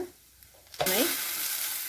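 Okra frying with onions, coriander and turmeric powder in a hot pan: a sudden loud sizzle bursts in as the mix is stirred, then holds as a steady close hiss.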